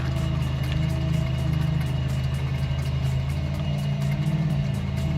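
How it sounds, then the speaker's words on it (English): A 2012 Toyota Prius with worn wheel bearings and brake pads touching gives a steady low rumbling hum with faint scraping overtones, continuous and close throughout, with no talking. "Brake pads touching."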